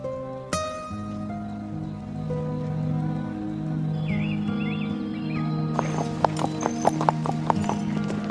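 Steady clip-clop of horse hooves, moderately close, over a sustained musical backdrop; the hoofbeats become sharper and more distinct toward the end.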